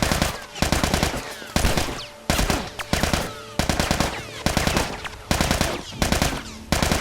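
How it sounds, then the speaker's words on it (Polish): An old man shoots at the player in The Last of Us Remastered, sending loud, close gunfire in rapid rattling bursts broken by short gaps, again and again. "O, to dziad strzela."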